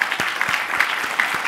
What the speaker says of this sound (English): So round of applause to these guys.